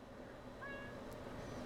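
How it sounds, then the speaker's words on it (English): A house cat meows once up close, a short rising call over a steady electrical hum on a workbench where an audio amplifier is being tested. "Cats, I tell ya."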